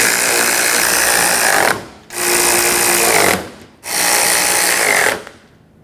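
A power tool drives 15mm strut mounting nuts on a 2006-2010 Hyundai Sonata front strut, three loud sustained whirring bursts with short gaps between them, close up and with no talk.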